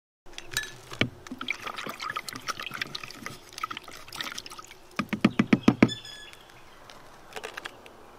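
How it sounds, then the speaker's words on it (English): Hydrated lime mix is poured into copper sulphate solution to make Bordeaux mix, giving close, irregular splashing and trickling with a run of louder sloshes and knocks near the end. "Just pour the mix together slowly, small amount at a time."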